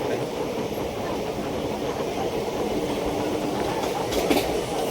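A passenger train rumbles along the rails as heard from inside a carriage, a continuous loud low roar with rhythmic wheel clatter and occasional faint squeals near the end.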